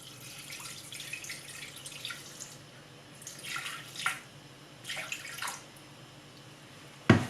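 Water, 180 g, is poured into a Thermomix bowl in several short bursts, each a splashy trickle close to the microphone, ending with a sharp knock.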